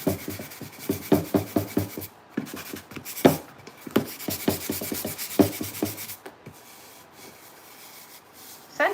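Hand rubbing over a cured epoxy glitter tumbler, close-up bursts of brisk swishing friction strokes in quick rhythmic runs, with pauses between them.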